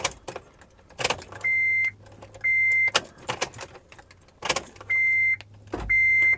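Short electric buzzing whirs of Honda car door locks cycling during key fob programming, four bursts in pairs, with key jingles and clicks in between.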